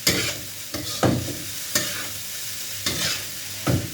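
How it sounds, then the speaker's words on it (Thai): Crab fried rice stir-fried in a pan, a loud sizzle with repeated scraping tosses of the spatula roughly every second. "ผัดตัวนี้นะครับผัดจนร่วนเลยนะครับ"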